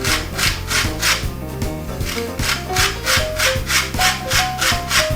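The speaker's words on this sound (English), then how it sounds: "Plenty of lemon zest because that goes really well with the prawn ravioli." A lemon is rubbed against a zester in rhythmic back-and-forth scrapes for prawn ravioli, about a dozen close, dry rasping strokes in a steady pattern, no voices.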